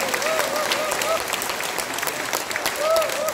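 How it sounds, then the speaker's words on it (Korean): A crowd at a packed church gathering in Namdong-gu, Incheon, claps steadily and loudly throughout, with a few voices calling out over the dense applause. "박수 한번."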